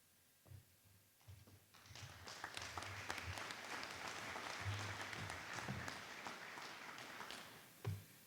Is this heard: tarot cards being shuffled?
no